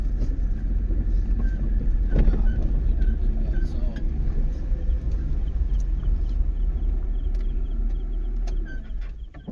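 A motorcycle idles and maneuvers as it turns around on a village road in Tilka village at night, its steady low engine drone continuous and close throughout, with a brief louder rev partway in and faint voices underneath.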